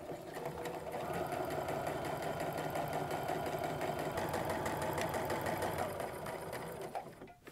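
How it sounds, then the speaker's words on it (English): A sewing machine runs steadily, stitching a short seam across apron fabric, a close, continuous motor whir with fast needle chatter that holds for about six seconds before slowing to a stop. "I'm just going to go ahead and give these a little stitch across."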